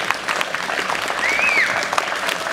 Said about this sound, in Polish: Jeszcze raz brawo na Maćka